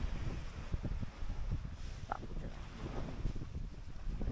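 Steady wind buffeting the microphone with a low rumble at a beach resort, continuous and fairly loud throughout, with faint water sounds in the background.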